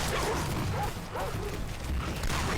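A dog barks at a person outside a window in a survival video game set in Katmai, with bark-like yips and a whimper over dense, steady background noise throughout.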